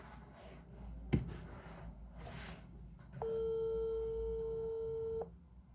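A WhatsApp call ringing tone, one steady electronic tone lasting about two seconds after a sharp click and some quiet handling noise, heard alone in a quiet room.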